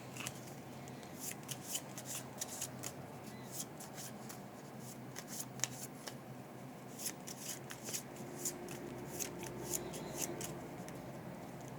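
Playing cards from a solo tabletop card game are shuffled back into a deck by hand, producing bursts of crisp riffling and flicking in irregular clusters at close range, with no talk.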